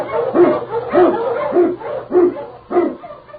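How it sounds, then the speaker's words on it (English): An Eskimo lead dog barks five times in an even, steady rhythm, each bark loud and close, over a faint low hum from an old radio drama. "King, the swiftest, strongest of Eskimo lead dogs, blazes the trail through storm and snow"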